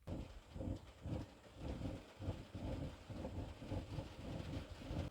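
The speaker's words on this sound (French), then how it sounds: "Bon, il pleut, ça va être une journée sous la pluie." Rain falls outdoors as a steady dense hiss and patter, with low rumbling underneath, quiet and continuous with no voices.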